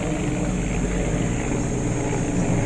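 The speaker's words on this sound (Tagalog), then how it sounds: "May helicopter na." A helicopter flies nearby at a work site, its engine and rotor making a loud, steady, continuous drone with no talk over it.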